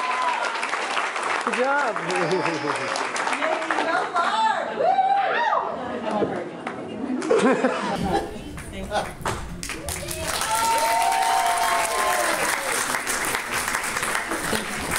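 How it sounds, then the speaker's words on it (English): A small audience at a Q&A session claps and cheers for several seconds, with chatter, laughter and a shouted voice mixed in, then a second round of applause swells near the end. "Applause for the opportunity."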